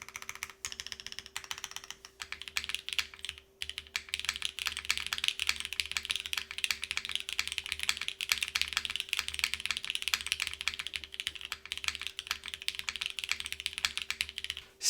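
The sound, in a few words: typing on KBDFans Margo mechanical keyboard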